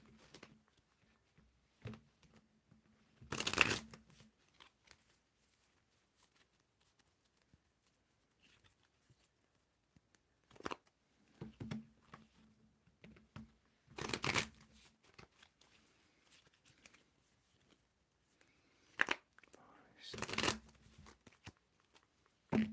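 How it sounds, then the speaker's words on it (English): Tarot cards are shuffled in a few short riffling bursts separated by quiet pauses, close and fairly soft. "Let's give it a shuffle here."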